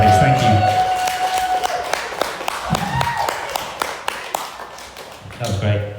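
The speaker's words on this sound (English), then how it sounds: "round of applause for them as well, please" Wedding guests clap in a round of applause, a scattering of sharp individual claps rather than a dense roar, with voices and talk mixed in underneath.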